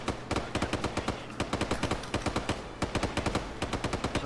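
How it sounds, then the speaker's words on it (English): Rapid automatic gunfire in Arma 3, loud sharp repeated bursts of shots in quick irregular volleys that continue throughout, with no talking. "Yeah, we're being shot at."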